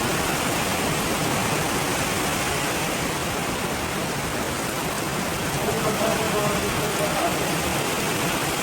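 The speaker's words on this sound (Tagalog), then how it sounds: "Lakas ng ulan dito sa farm ni Sabong Pinas kay Ruel Amano." Heavy rain pours steadily on a farm, a dense, loud and unbroken hiss of drops on surfaces all around.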